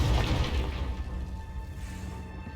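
A Confringo fire spell detonates in Hogwarts Legacy, a deep booming blast with a rumbling low-end tail that slowly fades over a couple of seconds, heard alone without voices.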